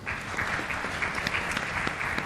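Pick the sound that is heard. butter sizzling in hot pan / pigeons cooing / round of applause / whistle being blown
round of applause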